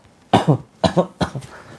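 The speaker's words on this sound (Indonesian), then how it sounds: "Silakan batuk-batukan." Deliberate, forced coughing during a prayer therapy session, three evenly spaced double-pulse coughs from one nearby person in a quiet room.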